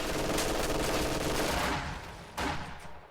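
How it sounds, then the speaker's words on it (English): A machine gun rattles off continuous bursts at conscripts in a real-time strategy battle, a steady dense chatter of rapid fire with one sharper burst near the end. "Machine gun will suppress those conscripts before getting wiped, barely"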